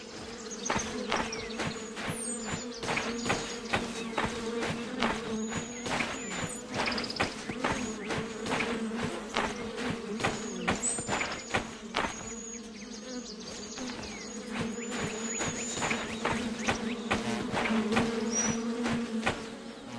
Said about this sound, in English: I hear the bees. I don't see them.